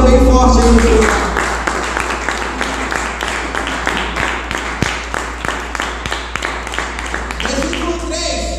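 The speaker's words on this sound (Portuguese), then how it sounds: "Aplauda o Senhor bem forte aí no seu lugar." A church congregation applauding loudly during an evangelical service, dense clapping with a sharp rhythmic beat of individual claps running through, swelling near the start and end with voices in the crowd.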